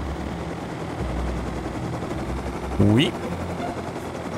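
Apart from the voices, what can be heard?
helicopter flying in the video game Rust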